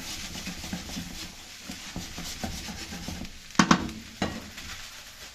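Egg fried rice is stirred and toasted with sauces in a sizzling pan, a continuous scraping and rubbing over steady frying hiss, broken near the end by a couple of louder spatula clacks against the metal.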